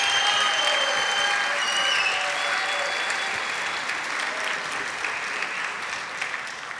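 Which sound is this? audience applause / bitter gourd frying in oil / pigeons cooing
audience applause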